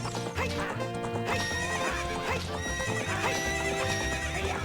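Horse galloping with rhythmic clip-clop hooves and whinnying neighs during a horse race in Zelda: Ocarina of Time, set over lively game music, loud and continuous throughout.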